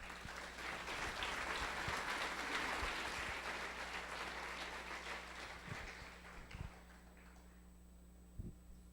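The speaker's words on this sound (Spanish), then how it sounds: "Dale fuerte ese aplauso a él" A church congregation applauds, a fairly quiet, full clapping that holds steady for several seconds and then fades out, leaving a few scattered claps and room hum.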